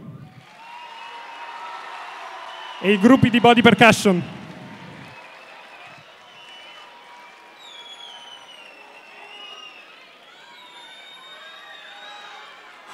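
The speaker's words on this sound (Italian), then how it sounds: "Vi chiedo di accogliere con un grande applauso il coro" A crowd at a school's 75th anniversary celebration gives a short burst of loud applause and cheering for a school choir. A speaker talks before and after it over a faint murmuring hall.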